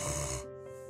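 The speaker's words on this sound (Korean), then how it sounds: "여기까지만 해도 그냥 가벼운 코골이." A brief, light snore from someone sleeping on their back, a single soft rasping breath.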